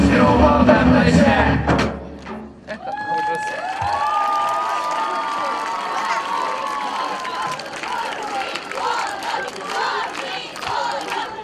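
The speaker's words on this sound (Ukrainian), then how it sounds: "Подякуйте ще раз оплесками за чудові виступи нашим роям" A crowd cheers and shouts at a youth military-patriotic game display of the Sokil-Dzhura swarms in Yuzhne, Ukraine, with loud applause and cries at first, then a sustained roar with tonal calls or whistles over the crowd noise.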